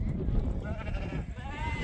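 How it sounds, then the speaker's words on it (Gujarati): A large flock of sheep on a mountain road in Kashmir's Gurez Valley bleats in overlapping calls under a constant rumble of wind or movement, the animals fairly close and continuous through the short stretch. "લગભગ 500 થી 1000 ઘેટા હશે"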